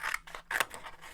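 Scissors snipping through paper while cutting out a snowshoe hare paper craft for kids, a quick series of soft, close crisp cuts with no voices.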